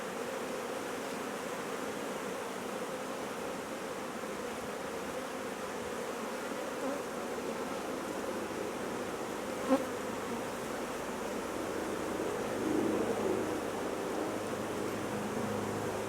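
A steady, even drone of many honeybees rises from an open hive during brood removal, continuous and close with one brief knock partway through.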